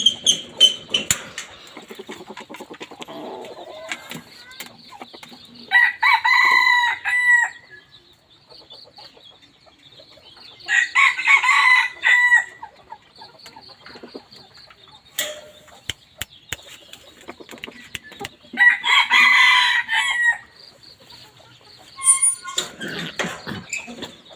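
Chickens and a rooster on a Thai poultry farm, with repeated loud bursts of crowing spaced several seconds apart, interspersed with softer clucking and quiet gaps, close to the listener.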